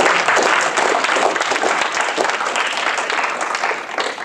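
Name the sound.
audience applause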